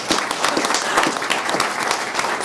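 An audience claps steadily at a town council meeting, a dense, even patter of many hands held at moderate level throughout, with no voices rising above it.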